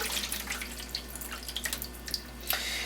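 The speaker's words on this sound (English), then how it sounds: "we are going to drain these potatoes here." Boiled potatoes are drained in a kitchen, with water splashing and dripping into a sink in a scatter of soft irregular trickles and drops over a low steady background, fairly quiet and close.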